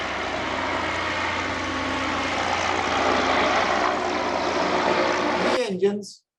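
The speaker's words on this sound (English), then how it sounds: "This is the modern airship that is flying today." Propeller drone of a modern airship flying overhead, driven by three engines, one at the back and two on the sides; a steady broadband engine roar holds for about six seconds and then cuts off abruptly.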